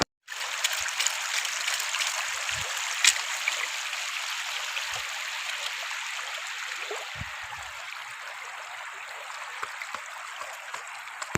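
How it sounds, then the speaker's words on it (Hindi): Fast-flowing flood water rushes past flooded village rice fields with a steady broadband roar, and faint low thumps rise now and then beneath it. "ये देखो सीन, पानी कितनी तेज़ी से यहाँ से गुज़र है"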